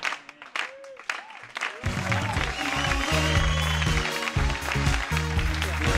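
Studio audience applause on a Catalan comedy show, a dense, loud, sustained wash of clapping that begins abruptly after brief talk and continues to the end.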